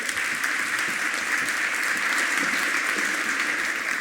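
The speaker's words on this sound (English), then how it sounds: "Give a big round of applause to Nazanin Shafiee." A conference audience at the Fe+male Tech Heroes event claps for a speaker in a steady, even burst of applause that fills the whole moment.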